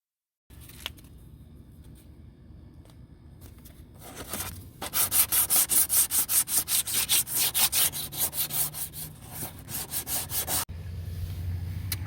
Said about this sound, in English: we'll sand this with some 180, 220, and that'll be pretty much it